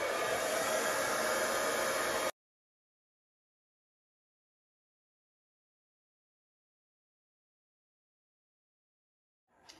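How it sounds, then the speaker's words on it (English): A hairdryer blows acrylic paint across a canvas in a short, loud burst of rushing air that cuts off abruptly, leaving near silence before a faint rustle at the end. "blow upwards with the hairdryer."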